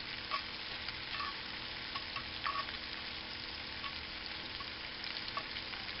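Onions sizzle steadily in a frying pan for liver and brown onion gravy, a soft, even crackle with a few faint clicks and stirring sounds, and no voices.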